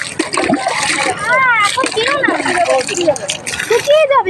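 Water is splashed onto a street during a Rath Yatra procession, with brief wet splashes beneath close, continuous talking voices.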